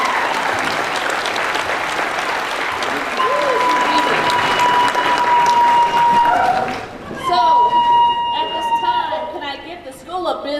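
Large crowd applauding at a spring university graduation ceremony, heavy continuous clapping that thins out toward the end while a voice and scattered cheers come through.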